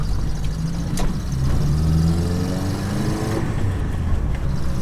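A 1991 Toyota Mini Truck rally build drones loudly from inside the cab while driving, the engine note rising through the revs with a steady, noisy mechanical roar.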